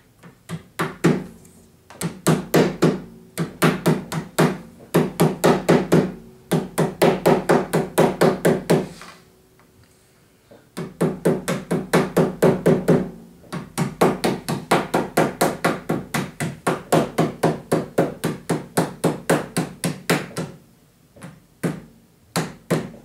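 Non-marring mallet tapping T-molding into the edge of a Soul Calibur arcade cabinet, rapid bursts of dozens of close, crisp taps, pausing briefly between runs.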